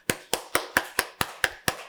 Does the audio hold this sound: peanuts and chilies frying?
no